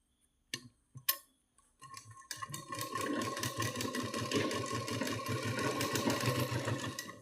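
Sewing machine stitching blouse pieces: a few sharp clicks as the fabric is set, then a steady rapid mechanical chatter of the needle running continuously, close and clear with no talking.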